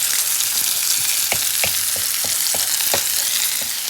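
Onions and sausages sizzle in a pot for gumbo, a loud, constant frying hiss broken by a regular series of scraping stirs.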